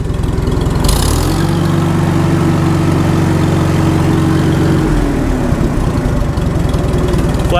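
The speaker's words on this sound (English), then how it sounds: "now that it's warmed up a little bit, it has a good low idle" An old tractor engine runs at low idle, close and loud, with a steady low throbbing that drops in pitch and settles after a few seconds.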